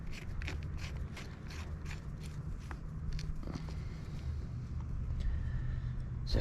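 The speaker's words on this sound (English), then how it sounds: "So we screw this on." A jackhammer attachment screwed onto an H12 Mini mini excavator produces close metallic clicks, creaks and ratcheting over a steady low engine rumble, with no talking.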